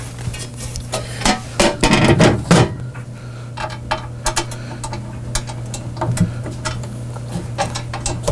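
A short bolt being worked through particle board, heard as a busy run of clicking, ratcheting and knocking at close range, densest early and then sparser, over a steady low hum, with no talking.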